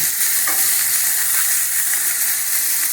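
Three large chopped onions frying in a hot pan for chapathi kurma, giving a steady, loud sizzle and hiss that holds unbroken from start to finish, with no talking.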